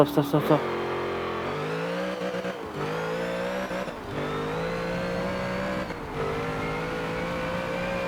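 Race car engine in Forza Motorsport 7 sustains a loud, steady drone while braking for a corner, its pitch stepping down through several gear downshifts, with brief blips at the start and a voice talking faintly underneath.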